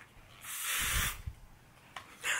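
Axe Anarchy cologne sprayed from a can in two bursts: a long, loud hissing spray followed by a brief pause and then a second, shorter hiss, close to the microphone with no talking.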